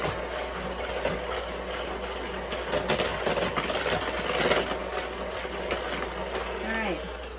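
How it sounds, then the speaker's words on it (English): Brookie batter being whisked in a bowl, a steady, continuous whirring and scraping that runs the whole time at moderate loudness, with faint voice sounds mixed in. "give that a good whisk"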